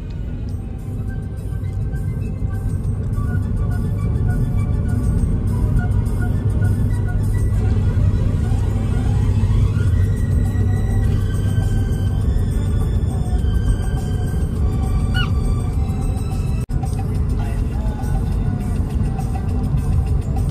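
A car on the road with a learner driver at the wheel during a family driving lesson; a steady, continuous engine and road rumble runs throughout from inside the cabin, with faint background murmur.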